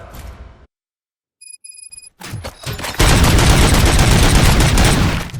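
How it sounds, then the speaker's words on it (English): Gunfire in RoboCop Rogue City erupts after a brief lull: a few scattered sharp shots and clicks, then a loud, sustained volley of rapid fire dominating the end. "Gunshots? What's going on?"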